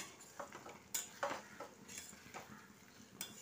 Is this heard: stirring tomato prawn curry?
yes